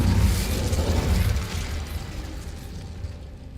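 A fiery spell burst in the game Hogwarts Legacy: a loud whooshing blast of flame at the start that rolls into a crackling, fading rumble over a few seconds.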